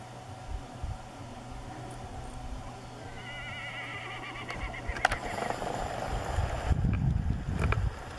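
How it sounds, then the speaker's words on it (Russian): Horse neighing outdoors during a summer cycling trip, a clear whinny rising over steady wind and ambient noise, with soft clip-clop and rustling building toward the end. "Лошадка возмущена."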